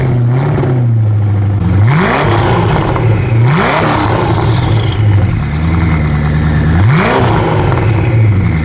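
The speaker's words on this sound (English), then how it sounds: "it would be a crime to shoot a video with the Koenigsegg and not film a couple of engine revs" A powerful Koenigsegg supercar engine idles with a deep rumble, then revs sharply three times, each rev swelling loud and dropping back to idle.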